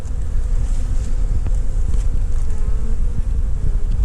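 A honey bee swarm colony buzzing around hive frames that hold old brood comb, a dense, steady, close hum with scattered individual bees passing near.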